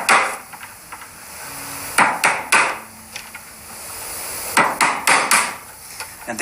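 Sharp hammer blows strike a chisel into wood, chopping out a dovetail, in two quick bursts of three or four hits each, close and loud, with quiet gaps between.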